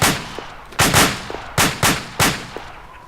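Bursts of gunfire ring out during urban infantry training, with five loud, sharp volleys spaced roughly evenly, each followed by a short decaying echo and fainter single shots in between.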